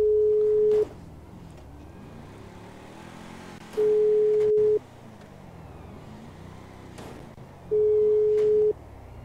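A phone call rings out in GTA V: three evenly spaced electronic tones, each about a second long, separated by roughly three-second gaps over a low background hum.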